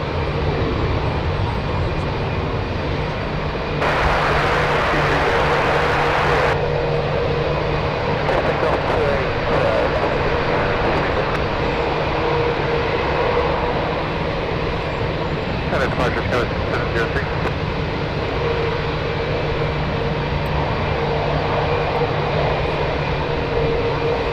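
Lufthansa Boeing 747 at San Francisco International Airport, a steady distant jet engine roar running throughout beneath intermittent talking, with a brief burst of broadband noise early on.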